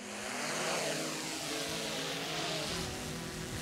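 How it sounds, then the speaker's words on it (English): A DJI Mavic 3 drone takes off automatically, producing a steady, broadband whirring propeller drone that stays fairly constant and fills the clip. "the drone will automatically take off"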